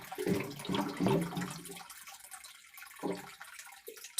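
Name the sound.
water filling at a water kiosk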